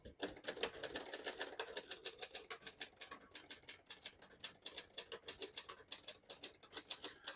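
Typing on a 1971 Hermes 3000 portable typewriter: a fast, even run of crisp mechanical key strikes, close and alone, steady rhythm throughout.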